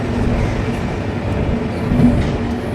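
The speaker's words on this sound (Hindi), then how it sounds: "गोमती नगर रेलवे स्टेशन से ये बेहद ही प्यारा खूबसूरत डिपार्चर 1:50:78 का।" Train 15078 pulls out of Gomti Nagar railway station in Lucknow with a steady low rumble and rolling wheel noise that stays close and even, without any speech.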